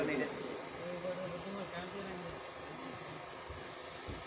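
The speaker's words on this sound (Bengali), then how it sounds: "আমি কিন্তু বাবা কিছু শুনতেছি না, জেনারেটর আওয়াজ ছাড়া" A diesel generator runs near an Islamic religious gathering, a steady low engine drone with knocking pulses, fairly faint and continuous beneath faint speech.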